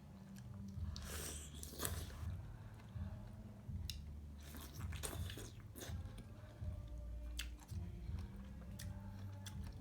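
Crunchy, juicy bites and steady wet chewing of ripe pineapple close to the mic, with repeated bites through the clip and a few soft squishes.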